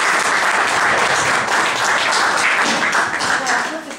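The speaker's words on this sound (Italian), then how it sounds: "facciamo sicuramente un applauso" Audience at a city political assembly in Ancona bursts into sustained, dense applause, loud and close, holding steady for several seconds before easing slightly.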